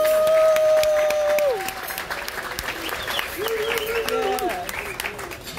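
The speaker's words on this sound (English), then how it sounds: "Let's give them a round of applause." Applause and cheering from diners for the servers in a cruise ship's main dining room, a loud burst of clapping that settles into steady crowd clapping with whoops over a music tone.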